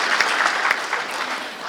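Short burst of dense applause from a seminar audience at a Rotary leadership workshop, many hands clapping together at a steady level.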